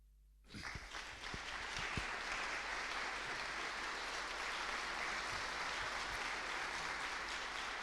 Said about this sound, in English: I hope you heard the applause,